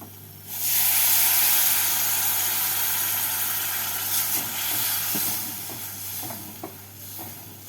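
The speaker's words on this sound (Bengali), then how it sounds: "মশলাটা কষানো হয়ে গেছে এবার আমি এর মধ্যে দিয়ে দেব দেড় কাপ জল" Water poured into hot fried masala for an egg kofta curry, a sudden loud hiss of steam and sizzling that swells, then slowly settles into bubbling with a few stirring clinks, close by and without talk.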